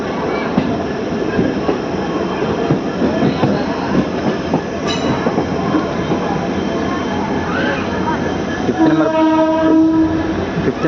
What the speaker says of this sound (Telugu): గుంతకల్ జంక్షన్లోకి మన ట్రైన్ ఎంటర్ అవుతుంది